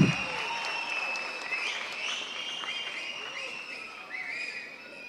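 Applause from a crowd at a Tamil film audio launch event, broad and continuous, with whistles and cheers rising over the clapping before it gradually tapers.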